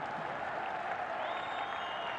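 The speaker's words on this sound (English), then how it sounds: "Applause from the coach, 215 for three." Thin, steady applause at a cricket match between Pakistan and New Zealand in Dubai, heard as distant scattered clapping from a sparse crowd with a faint whistling tone rising through it.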